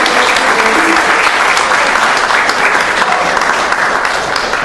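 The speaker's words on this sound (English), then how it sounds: "So let's give a big round of applause to him." Sustained, loud applause from a city council meeting audience honoring A.C. Green, a dense, steady wash of clapping filling the whole stretch with no break.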